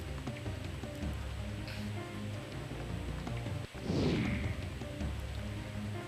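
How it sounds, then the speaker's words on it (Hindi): Steady rain falls in Mussoorie as a soft, constant patter on surfaces, fairly quiet throughout, with one brief louder splash or rush partway through and no voices. "मसूरी में 2 दिनों से हो रही बारिश से जनजीवन अस्त व्यस्त हो गया।"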